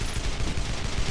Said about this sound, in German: Was schießt denn da?